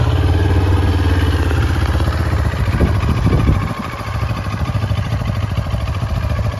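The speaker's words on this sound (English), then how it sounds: "We're going to get this puppy started so you can hear the sound of that parallel twin motor." A 2022 CFMoto 700 CL-X Sport parallel-twin motorcycle idles steadily and close by, with a low, even thrum and a slight clatter and a brief rise in engine note near the middle. No one speaks.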